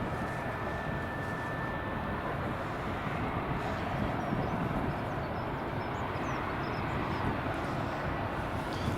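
A Delta Boeing 767 on approach to land on runway 24 at Edinburgh Airport gives a steady, continuous broadband roar that holds at an even, moderately loud level throughout, with no voices.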